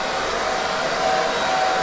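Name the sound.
hair dryer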